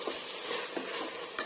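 Coriander and mint leaves frying and being stirred in a pan while chicken biryani is made. A close, continuous sizzle carries a few soft scraping strokes, and no one speaks.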